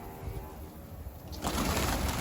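Pigeons settle onto a rooftop coop, with soft cooing and rustling close by that grows louder and denser partway through.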